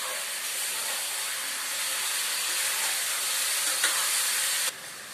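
Raw, unboiled cut jackfruit hits hot oil in a pan for a jackfruit curry, giving a loud, steady broadband sizzle and hiss that holds for about five seconds before dropping slightly, with no talking.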